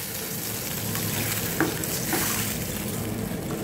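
A brinjal and tomato gravy frying in oil hisses loudly and continuously as water is poured into the pan, with a brief clink of a utensil partway through.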